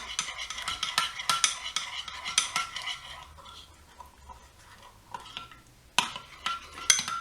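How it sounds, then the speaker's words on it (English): A spoon scrapes and clinks steadily against a bowl as salt is stirred into a chocolate mixture, with close, rhythmic metallic taps that pause briefly before resuming. "Give that a good stir in."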